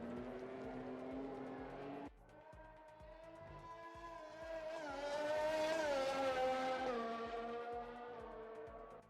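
A Formula 1 race car engine from the F1 2020 video game, driven in the rain, howls loud and close with a sustained high-revving tone that drops briefly, then climbs and swells before easing off.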